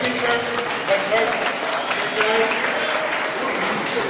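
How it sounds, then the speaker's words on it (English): Applause from guests at a 75th birthday party, a steady wash of clapping lasting about four seconds, fairly loud and close, with voices and cheering mixed in underneath. "Nice round of applause for Javier Luis, please."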